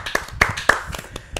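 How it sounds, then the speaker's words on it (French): A small audience on a French show claps in a few sharp, uneven bursts, with distinct separate hand claps instead of a full roaring ovation. "sous vos applaudissements"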